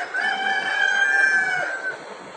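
Chickens in a ventilated chicken shed with black shade netting on the sides, a rooster crowing in a long drawn-out call over steady background clucking and flock noise, fairly close and continuous.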